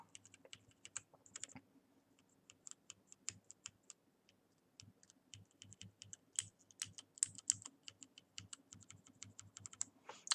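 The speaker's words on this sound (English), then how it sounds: "I noticed this particularly for a lot of the clicky switches, but also like linears" Clicky and linear mechanical keyboard switches are pressed one after another on a KBDFans switch tester, crisp close clicks and clacks in irregular bursts and rapid runs with short pauses between, no talking.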